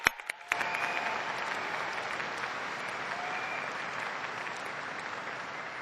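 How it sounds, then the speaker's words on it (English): At a 2012 WSU Vancouver graduation, a few scattered claps quickly swell into broad, sustained applause from the commencement audience for faculty and staff, holding steady and full for several seconds. "Please join me in a round of applause for all of our faculty and staff"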